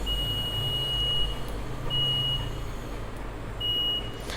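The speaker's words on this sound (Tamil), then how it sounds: "இப்போ நான் 2 டெர்மினல்லையும் வந்து கனெக்ட் பண்ணால் எனக்கு வந்து ஒரு பீப் சவுண்ட் கேட்கும்" A digital multimeter in continuity mode beeps as both probe terminals are connected, giving three thin, steady high-pitched tones of about a second each, separated by pauses over a constant low background hum.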